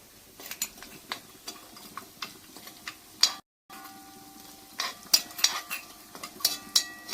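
Ground spice paste going into a pot of Kerala-style tomato rasam, scattered spoon scrapes and metallic clinks against the pot, with a brief gap midway, close and fairly quiet.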